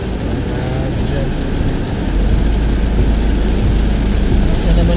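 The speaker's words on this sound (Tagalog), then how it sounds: "Lumakas na naman ang ulan guys." Heavy rain drums steadily on a car roof and windshield during a downpour with poor visibility, a continuous dense wash that swells louder about halfway through, with faint engine rumble underneath.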